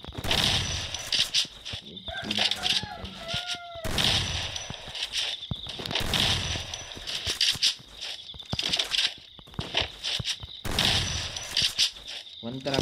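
Shotgun fire in the mobile battle-royale game Free Fire comes as repeated bursts of sharp blasts in a regular rhythm, with a player talking over the gameplay.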